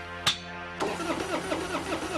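A vehicle engine cranks with a brief sharp burst, then catches and runs with a steady, fairly loud rumbling idle that pulses rhythmically for the rest of the moment, no voices present.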